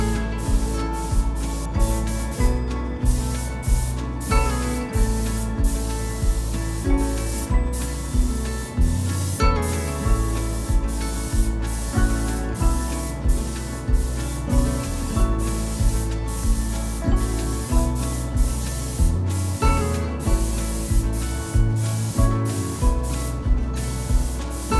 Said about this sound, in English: I'm applying 2 layers of 2K high solid clear coat with about 20 minutes in between each one.